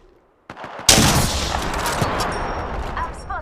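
Gunfire in Apex Legends: after a short quiet lead-in, a sharp shot breaks into a sustained loud burst of rapid fire that continues to the end.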